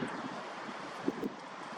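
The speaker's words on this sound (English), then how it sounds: "So you can see how windy it is right now," Wind gusting outdoors around an osprey nest, a steady broadband rush with a couple of brief louder buffets, close to the microphone and with no talk.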